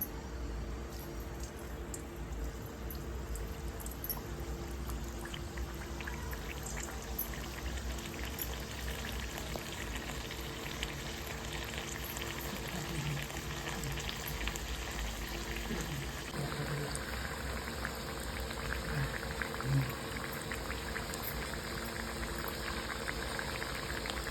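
Rajgira puris deep-frying in hot oil, a continuous bubbling sizzle with small pops throughout, steady and close, with no voices.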